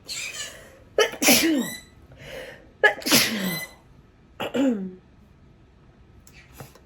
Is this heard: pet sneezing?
yes